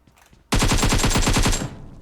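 A rapid burst of automatic gunfire from a Vector submachine gun in PUBG Mobile, loud and close, lasting about a second before cutting off abruptly.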